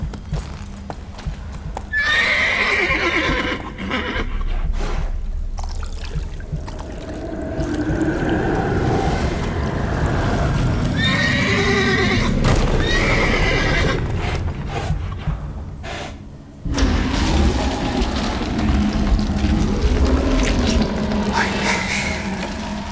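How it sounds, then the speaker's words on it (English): Possessed horse in the video game The Witcher 3 neighing and whinnying in loud, drawn-out bursts over clopping hooves, with a distorted, eerie quality and some background rumble. "Possessed horsey."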